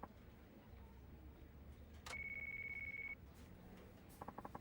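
A phone rings inside the Yakuza 5 video game as a single sustained electronic beep-tone lasting about a second, followed by a short burst of rapid chirping beeps over quiet ambience.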